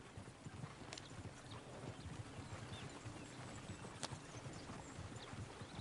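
Horse hooves clip-clop steadily in Red Dead Redemption 2, a continuous rhythmic trot over a rumbling low background with no voices.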